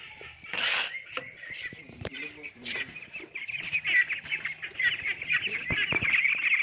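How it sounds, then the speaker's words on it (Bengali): A flock of Peking Star 13 ducks approaches for feed on a duck farm, giving scattered quacks and calls at moderate distance, with soft rustling and shuffling growing busier toward the end. "হাঁস দেখুন ইতিমধ্যে এদিকে চলে আসছে, ওরা বুঝেছে যে আমরা খাবার দেব।"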